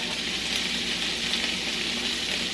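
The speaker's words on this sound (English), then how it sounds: "I'm just going to stir fry these." Green beans stir-fried in olive oil with garlic, a bright continuous sizzle, close and steady for a few seconds without any voice.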